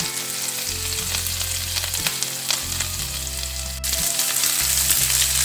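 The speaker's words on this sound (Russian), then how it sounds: "добавляю чеснок, кусочек сливочного масла, все перемешиваю и немного погодя выкладываю спаржу" Asparagus fries in a pan with garlic and butter, a loud, dense, even sizzle close by with light stirring clicks, while a low humming tone shifts in steps underneath.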